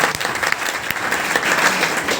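A hall audience at a motivational program bursts into loud, dense applause for the managing director, continuous and close throughout, with scattered sharper claps standing out.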